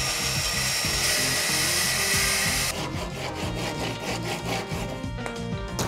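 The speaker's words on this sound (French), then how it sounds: "je dois finir à la scie à chaque fois" A hand saw rasps through wood in steady back-and-forth strokes, loud and close, cutting workbench leg crosspieces, with a rougher rhythmic pattern in the second half.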